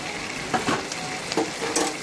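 Chicken sautéing with spices, salt, turmeric and Kashmiri red chilli powder in a pan for Lahori chicken, a soft steady sizzle broken by several spoon-stirring scrapes, close and without talk.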